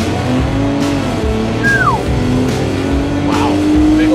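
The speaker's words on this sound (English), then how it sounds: "So let's do a little launch here," A Hennessey VelociRaptor 600 Ford Raptor pickup with a boosted engine launches in sport mode, its engine note loud and close and rising through revs, with a voice talking over it.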